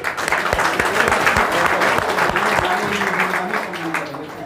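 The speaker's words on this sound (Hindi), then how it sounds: "आप इनका स्वागत करें ताली बजा के।" An audience at a political gathering claps to welcome guests, with loud, dense applause and distinct individual claps close by, continuing steadily throughout.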